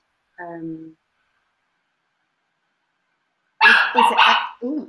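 A puppy gives a short bark in a kitchen, then after a pause a voice speaks close by with another brief yelp at the end.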